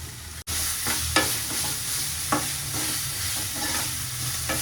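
Ginger-garlic masala for biryani frying in a pan, a dense continuous sizzle punctuated by a few soft spoon scrapes and stirs, close by and with no voices.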